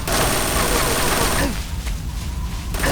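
In the stealth action game Metal Gear Solid 3, loud, dense gunfire erupts in a heavy burst, stops abruptly, then resumes at the end, close and overpowering.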